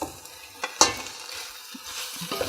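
Fusilli pasta with leftover turkey, stuffing and vegetables is stirred in a frying pan, with soft scraping stirs and a few light clinks of the utensil over a faint sizzle.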